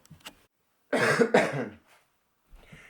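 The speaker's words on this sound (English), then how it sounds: "This stuff is really powdery. It's making me cough." A short burst of harsh coughing, two quick coughs close together, with faint breathy sounds before and after.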